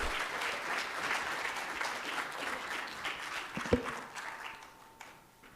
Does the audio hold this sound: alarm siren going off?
no